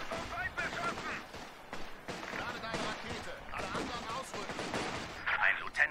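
Gunfire in the World War II strategy game Company of Heroes 2: Ardennes Assault. Scattered shots and short bursts at mid-distance crackle beneath German-speaking voices.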